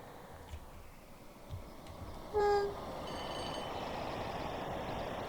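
A Class 86 electric locomotive in the Train Sim World 5 game passes by on the West Coast Main Line over Shap, sounding a brief loud horn blast and then a steady rumbling roar as the train rolls past.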